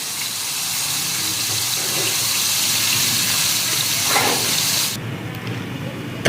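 Sliced tomatoes hit hot cooking oil in a karahi, a loud steady hiss and sizzle that holds evenly, then drops away abruptly near the end.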